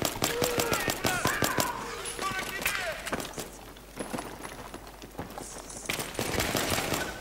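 Rapid gunfire bursts and single shots crackle in a Battlefield 3 match, fairly quiet and in uneven clusters amid game effects, with talking over the top.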